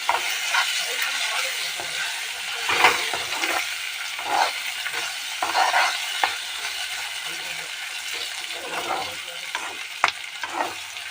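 Ivy gourd (kundri) fries in a pan, giving a steady close sizzle broken by repeated scraping stirs of the spatula, with no talk over it.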